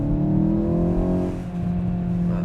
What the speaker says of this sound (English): now we're driving the Golf GTI, and you could hear nice exhaust sounds